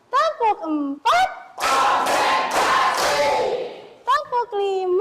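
Children in a classroom clap in unison for a counting game, a dense run of about four sharp group claps under young voices. The burst is framed by someone speaking.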